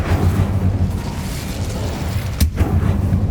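A fire spell being cast in Hogwarts Legacy, a loud booming, explosive burst with a sharp crack near the middle over steady rumbling game effects.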